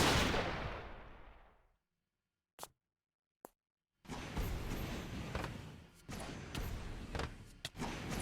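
A turret in modded Minecraft fires in sharp, separated thumps, two isolated shots after a stretch of near silence, then a denser run of loud impacts against ongoing game noise.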